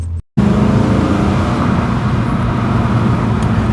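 Mustang V8 engine in an MG ZT 260 accelerating hard, a loud continuous low rumble and roar that cuts in after a brief silence and holds steady close by.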